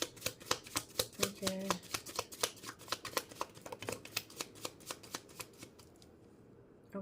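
A deck of tarot cards is shuffled in a long, even run of crisp riffling clicks close up. A voice briefly speaks partway through, and the shuffling stops near the end.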